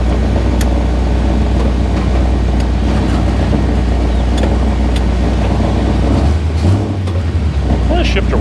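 A 1957 Chevy convertible drives along with a loud, steady engine rumble and road roar close by, its exhaust rattling against something underneath, and a voice talks over the noise.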